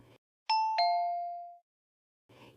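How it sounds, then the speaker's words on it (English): A house doorbell rings with a clear two-tone ding-dong, two bright strikes with the second tone ringing out and fading over about a second, with brief narration before and after. "He pressed the bell."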